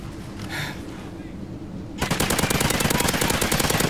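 Rapid automatic gunfire in a first-person shooter game bursts in loud and close halfway through, a dense run of shots after a quieter stretch of game ambience.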